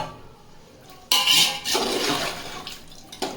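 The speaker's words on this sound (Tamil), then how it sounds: "இப்போ இந்த கால்வாசி தண்ணியை ஊற்றுறேன்" Water poured into a cooking pot of chicken biryani curry, a sudden close splashing pour that starts about a third of the way in and keeps running steadily to the end, with no talk.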